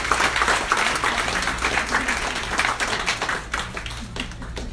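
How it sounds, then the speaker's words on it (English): An audience at a pharmacists' association ceremony claps continuously, a dense wash of applause that swells and then thins toward the end, with a low hum running underneath. "Please keep clapping, because if you don't, you're not going to eat."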